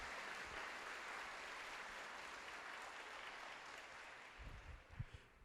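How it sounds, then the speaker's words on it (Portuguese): Church congregation applauding after a Gospel reading during a Portuguese-language sermon, a steady wash of many hands clapping at moderate distance, with a few louder nearer claps toward the end. "Vamos aplaudir a palavra de Deus."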